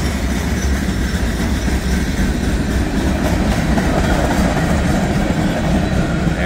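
Freight cars of a northbound train roll steadily by at close range, a loud, unbroken rumble with faint clickety-clack from the wheels.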